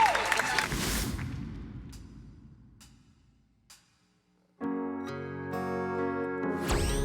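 A studio audience at a Korean TV show applauds and cheers in a loud burst that fades away into near silence before music begins.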